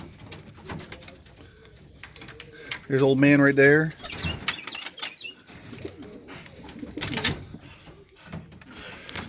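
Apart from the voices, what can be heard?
homing and roller pigeons cooing in a loft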